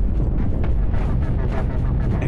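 Heavy cobalt cannons fire in the modded space-combat game Cosmoteer, a dense, continuous barrage of booming blasts and rumbling impacts that stays loud throughout with no pauses.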